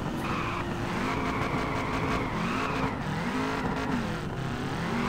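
Drift cars in the online racing game Peak Angle, including an old Mazda, with engines revving and wavering in pitch alongside steady tire squeal and skidding, continuous and moderately loud with no talk.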